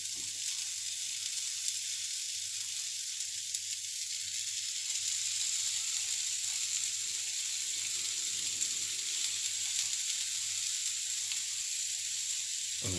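Turkish kebabs sizzle in a hot pan with no oil, giving a steady, bright hiss that runs unbroken and fairly loud throughout, with no talking.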